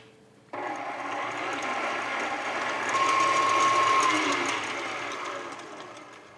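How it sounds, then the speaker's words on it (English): An electric hand mixer whirs steadily as it blends an apple yogurt batter, a continuous motor drone that swells slightly in the middle before easing back, close and alone. "I will mix this now, just enough to incorporate everything."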